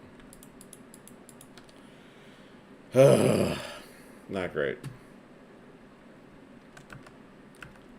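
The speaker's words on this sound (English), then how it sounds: "Hey, I'm just clicking at this point." Computer keyboard clicks during play of Blue Prince: faint scattered taps in the background, interrupted by a burst of speech and a short spoken phrase in the middle.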